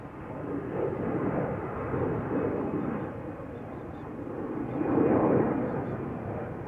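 An Iberia Express airliner departs Amsterdam Schiphol for Madrid, a muffled, moderately distant jet rumble that swells and fades gently, rising again near the end.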